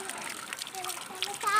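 Mangoes washed by hand in a water bowl, with soft splashing and sloshing close by, running under a voice and adult chatter.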